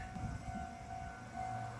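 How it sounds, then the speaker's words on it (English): A train in Nagoya, Japan, approaching a pedestrian railway crossing rumbles in the distance with a low, rolling drone and a faint steady tone above it, growing slightly toward the end. "There's a train coming now."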